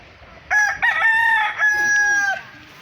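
A six-month-old gray rooster on a farm gives one loud, close crow, a stuttering start drawn into a long sustained call lasting about two seconds, heard alone over quiet background.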